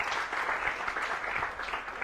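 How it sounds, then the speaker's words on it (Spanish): Steady applause from a church congregation fills the whole clip, a dense even clatter of many hands clapping with no voices on top. "Dele un fuerte aplauso al Señor."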